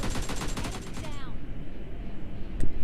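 Rapid automatic gunfire from PUBG Mobile Lite, a loud, dense burst of repeated shots for about a second, then a lingering noisy rumble and one more sharp crack near the end.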